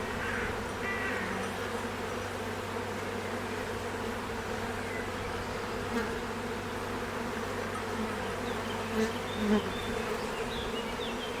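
Honey bees buzzing around an artificial swarm hive, a steady close drone with occasional louder passes of single bees.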